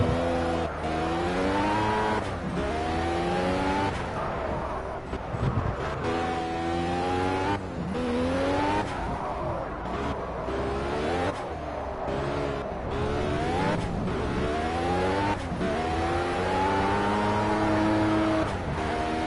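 In the racing video game Project CARS, a race car engine screams continuously, rising and falling through gear shifts as it accelerates and brakes, loud and close with no talking.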